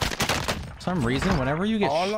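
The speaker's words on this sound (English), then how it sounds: "whenever you get shot at, it's so loud on boost" Rapid, loud bursts of gunfire from Call of Duty Warzone, heard while being shot at, crackle for under a second before a voice takes over.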